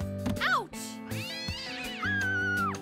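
A cat meows several times, with rising and falling cries and a long drawn-out wail, heard close amid other voices and background sound.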